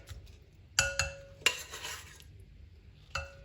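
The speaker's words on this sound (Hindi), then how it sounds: "अब इसके अंदर गोश्त ऐड कर देंगे।" Meat goes into a metal cooking pot for chatkhara boti, giving a few sharp clanks of spoon and pot, a brief rattling scrape of stirring, then one more clink, close and clear with no talk.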